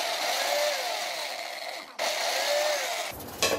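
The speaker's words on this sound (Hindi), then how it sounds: "चलिए अब हम इसको ग्राइंड करते हैं। मैं स्विच ऑन करती हूँ।" Electric grinder running continuously as it grinds a chicken haleem mixture of meat and lentils, a loud steady motor whine with a brief dip near the middle before cutting off at the end.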